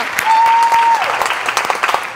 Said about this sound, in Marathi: मस्त झाला परफॉर्मन्स. जोरदार टाळ्या.